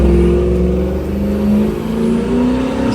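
Big block engine with Sniper fuel injection pulling hard on a highway, a loud, steady rising drone with climbing harmonics through the full stretch, no voices.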